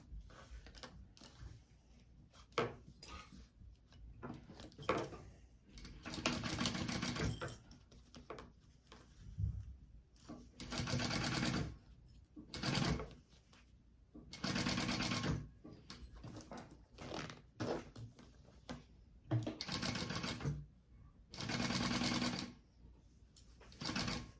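A sewing machine bastes a bag panel, running in repeated rapid bursts of needle chatter with short pauses between stitching runs, close and fairly loud.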